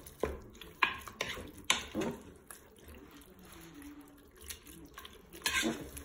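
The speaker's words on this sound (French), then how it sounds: "Je mélange." A spoon stirs a pepper and tomato dish inside a Cookeo multicooker pot, giving a few sharp knocks against the pot and soft scraping and sloshing between them, close and fairly quiet.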